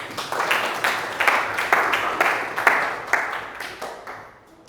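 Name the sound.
classroom applause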